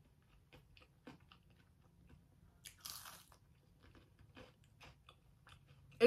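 Crunchy pita chips from the Cava restaurant are bitten and chewed up close, giving quiet, irregular crunches over a soft background, with one louder burst midway.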